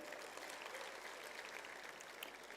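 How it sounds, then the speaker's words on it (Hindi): Audience applause at a Hindi comedy and satire show, a fairly quiet, even patter of many hands clapping that continues steadily without voices. "एक बार तालियां बजा दीजिए।"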